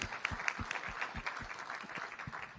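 An audience at a global conference of meditation leaders applauds a Grandmaster, with dense, steady clapping from many hands heard at moderate distance.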